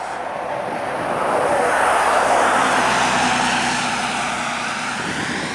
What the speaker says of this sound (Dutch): Voilà, dat is de bus 20, dus richting Axel Goes treinstation.